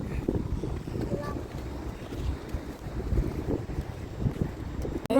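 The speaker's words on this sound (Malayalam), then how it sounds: "കാറ്റാണ് കേട്ടോ. നല്ല പൊടിക്കാറ്റുണ്ട് ഗൈസ്." A gusty, dust-laden wind sweeps through a street in Muwaileh, Sharjah, roaring and buffeting the microphone in uneven surges, with a voice faintly present beneath it.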